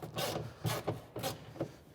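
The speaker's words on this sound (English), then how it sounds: "we're just going to go ahead and remove those Torx screws" T40 Torx screws are backed out of a drive shaft cover on a Polaris Ranger 570/500, making a few short, rasping grinding bursts close by, each spaced roughly half a second apart, with no voices.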